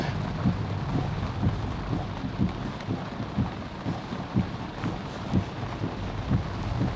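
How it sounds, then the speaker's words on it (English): Heavy rain falls steadily in a city center in Cologne, a constant hiss with wind buffeting the microphone and soft, regular thumps underneath. "The rain has intensified."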